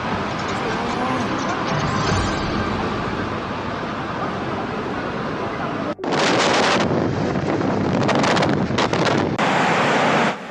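Tornado winds roar in a dense, continuous blast with heavy buffeting on the microphone, dropping out for an instant before surging back even louder in gusting waves.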